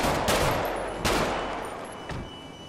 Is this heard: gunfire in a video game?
yes